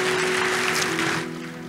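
Dense applause fills a church service hall, a continuous wash of clapping over a sustained organ or keyboard tone, loud and then easing off slightly.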